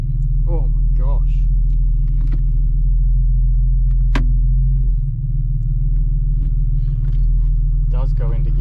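A Barra-engined Ford Territory idles with a loud, steady low rumble that shifts briefly as it drops into gear, while people talk briefly over it.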